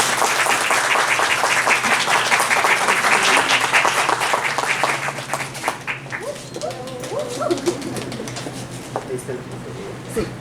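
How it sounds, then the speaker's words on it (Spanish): Loud audience applause at a psychotherapy talk on discursive constructivism, dense clapping for about six seconds before thinning to scattered claps as a voice starts speaking. "vamos a darle un fuerte aplauso a la maestra"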